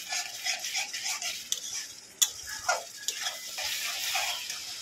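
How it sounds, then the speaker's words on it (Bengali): Ground coriander, cumin, chili powder and salt sauté in a pan for a pointed gourd curry, giving a soft steady sizzle with scraping spoon stirs and an occasional clink of metal. "ধনে গুঁড়ো, জিরে গুঁড়ো, লবণ দিয়ে আবারও ভালো করে মশলাটা কষিয়ে নেব।"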